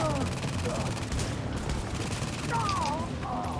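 Automated turrets in Tom Clancy's The Division fire continuous rapid bursts at a Napalm Production Site, a dense steady clatter with whooshing effects layered over it and faint voices underneath.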